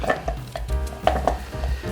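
Carrots being cut on a board for pasta e fagioli, a few quick knife knocks and clatters close up amid light kitchen clatter, with no talk.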